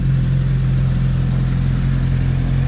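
A Yamaha R7 motorcycle engine idles close by with a steady, even mid-pitched hum and a light mechanical clatter, constant and uninterrupted.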